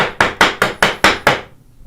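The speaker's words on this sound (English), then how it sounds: "And chisel down." Mallet strikes on a chisel chopping half-blind dovetails in wood: six sharp, evenly spaced knocks in quick succession, close and loud, then silence.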